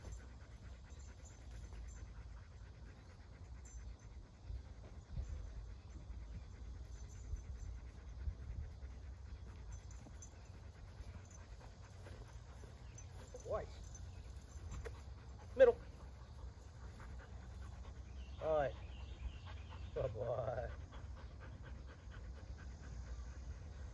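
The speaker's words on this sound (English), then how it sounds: "this is my 16-month-old Malinois Skookums" A 16-month-old Belgian Malinois pants steadily through IGP obedience training, with a few short whimpers and yips near the end, faint outdoor background throughout.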